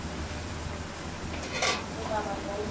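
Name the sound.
stirring and frying ground spices in oil for tengra fish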